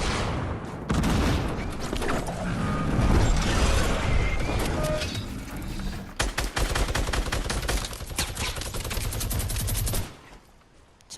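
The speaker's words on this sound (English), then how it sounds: "what's shooting at me?" Rapid gunfire from the Fortnite video game, a dense continuous barrage of shots and impacts that stays loud for about ten seconds before cutting off and fading.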